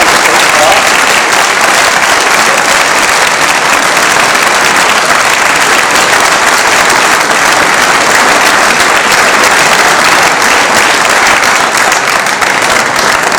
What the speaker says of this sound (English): Could I ask you to give a round of applause for our candidates?